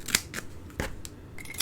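Scissors snip through a foam adhesive dimensional for papercrafting, producing a few quick, close, crisp cuts in a quiet room.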